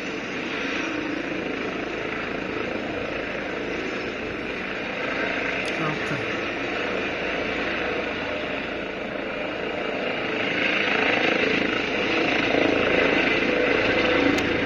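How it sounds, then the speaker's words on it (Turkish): An ambulance helicopter's rotor and engine drone steadily nearby at Ankara City Hospital, swelling louder toward the end as it lifts off. "Evet, helikopter de kalkıyor şu an."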